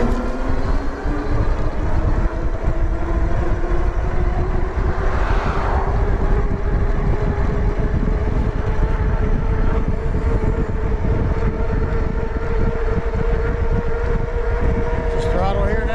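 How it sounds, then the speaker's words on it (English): A JASION X-Hunter ST folding e-bike (1400W peak) runs flat out at top speed on a main road into town, with a steady loud motor whine rising slightly in pitch under constant wind roar. "we'll check out top speed"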